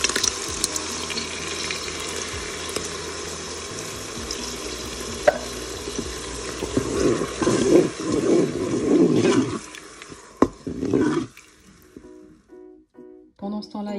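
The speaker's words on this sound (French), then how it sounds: "il faut rincer vos pâtes à l'eau froide" Cooked mezzi rigatoni being rinsed under cold running tap water in a kitchen sink, a steady splashing stream that turns choppy and uneven before stopping, with a voice talking at times.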